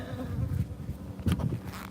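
Honeybees buzzing around an open hive during a honey harvest, a steady low drone that swells in two louder bursts as bees fly close, with no talk.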